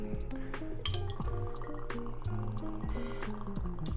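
Vodka is poured from a bartender's jigger into a glass, with bright glassy clinks and trickling liquid amid nearby bar clatter.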